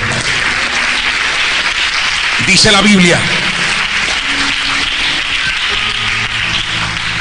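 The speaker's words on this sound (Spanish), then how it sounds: "Denle un aplauso al Señor" Steady church congregation applause runs throughout, a dense wash of clapping with a voice speaking briefly over it partway through.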